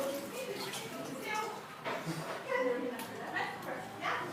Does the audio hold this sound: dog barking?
yes